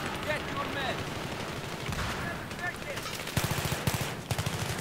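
Battlefield 3 M5K submachine gun fire in the Donya Fortress map, with short rapid bursts cracking out near the end over a steady din of background battle noise.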